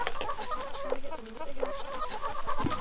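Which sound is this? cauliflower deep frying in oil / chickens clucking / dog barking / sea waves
chickens clucking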